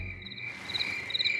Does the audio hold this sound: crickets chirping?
yes